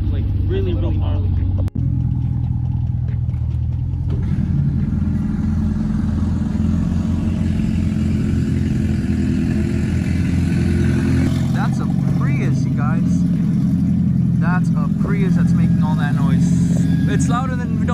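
Modified Chevrolet Camaro with a new exhaust starts with a harsh, gnarly note, then settles into a loud, rumbling idle with blips of revving, close by, while people talk over it.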